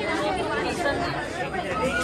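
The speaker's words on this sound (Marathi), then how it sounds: "रविवार असल्यामुळे गर्दी आहे" A busy crowd murmurs steadily at Dagdusheth Halwai Ganpati temple in Pune, many overlapping voices forming a dense, even chatter with no single speaker standing out.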